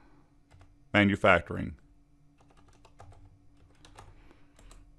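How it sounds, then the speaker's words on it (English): Fast, light clicking of a computer keyboard while text is typed into Microsoft Word, with a short burst of nearby speech early on and then a steady run of soft key taps. "I'm going to type in Wilson"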